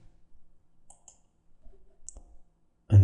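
A computer mouse clicks a few times, producing faint, sparse ticks in a quiet room, followed by a louder, fuller click-thump at the very end.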